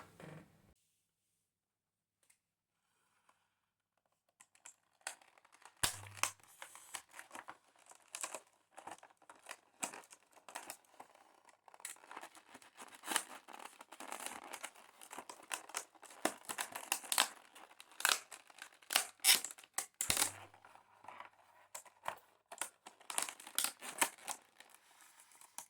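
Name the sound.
cutting through hard plastic packaging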